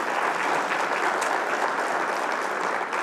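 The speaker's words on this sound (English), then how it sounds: "Let's give the Lord a clap." A church congregation applauds steadily, a dense, even wash of clapping hands with no pauses.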